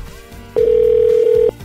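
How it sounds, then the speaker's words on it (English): A telephone dial tone sounds after a caller hangs up: a single steady, loud electronic tone lasting about a second, cutting in and stopping abruptly over faint background noise. "He hung up the phone."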